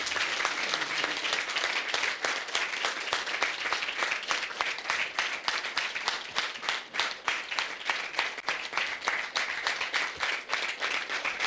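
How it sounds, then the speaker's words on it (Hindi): Loud audience applause at a spiritual gathering, many hands clapping in a dense, steady wash with a rhythmic pulse running through it, sustained evenly for the whole stretch with no talking. "जोरदार तालियां बजाओ"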